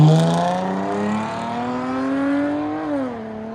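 A 2018 Dodge Charger with a 3.6L V6 and Big Boz 4 mufflers drones close by as the exhaust note climbs smoothly, then eases and dips near the end, loud and with no voices.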